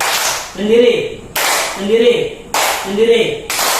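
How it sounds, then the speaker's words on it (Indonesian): Children in a classroom play a mosquito clapping game, with three sharp group claps spaced about a second apart between stretches of voices chanting and talking. "Tepuk nyamuk sendiri"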